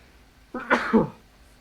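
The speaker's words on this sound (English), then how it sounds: "sorry, I'm going to sneeze" A single sneeze, close and brief, rising sharply and then trailing off into quiet.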